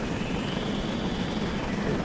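A GWR 7800 Manor steam locomotive in Train Sim gives a steady, loud, roaring chimney blast at speed, a continuous dense rumble that sounds almost like an aircraft engine and carries on unbroken throughout.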